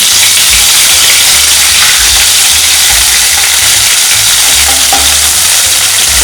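Ginger and garlic frying for a Darjeeling-style egg momo filling, giving a steady loud sizzle with a low rumbling hum running underneath throughout.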